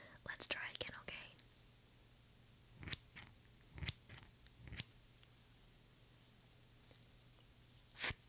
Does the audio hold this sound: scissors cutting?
yes